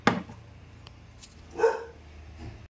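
A dog barks twice, a sharp near bark at the start and another about a second and a half later, with a faint low hum underneath in a home kitchen.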